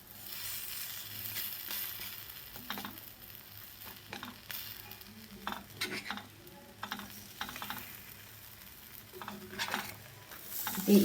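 Appe made from rice and mixed lentil batter sizzle gently in an appe pan, with soft scraping and stirring clicks as they are turned over one by one, steady low frying hiss throughout and no talking.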